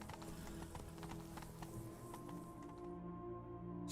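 Horse hooves galloping in the video game Witcher 3: Blood and Wine, a rapid, steady clatter of hoofbeats under game music and ambience, continuous and fairly close.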